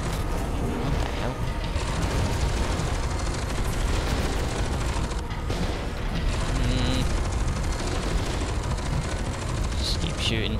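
Sustained heavy gunfire in the shooter F.E.A.R. 2, a dense and loud stream of shots with rumbling blasts that carries on without a break as a voice talks over it.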